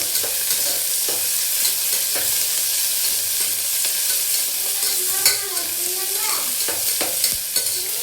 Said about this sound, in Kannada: ಇವನ್ನ ಎಣ್ಣೆ ಒಳಗೆ ಚೆಂದಾಗಿ ಫ್ರೈ ಮಾಡ್ಕೋಬೇಕು